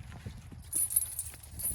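Domestic horses, two geldings and two mares, walking with steady, fairly close hoof clip-clops on firm ground, with faint background noise.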